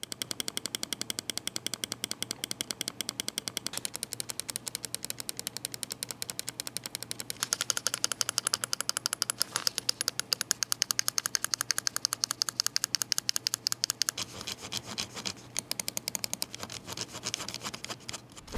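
Huano Blue Shell switches with a TTC Gold Dust Proof encoder on a lightweight wireless gaming mouse click in fast, relentless rapid-fire bursts, crisp and close, growing denser and louder midway before thinning toward the end.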